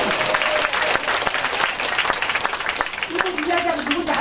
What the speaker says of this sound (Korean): 박수 한번 나와야 되는데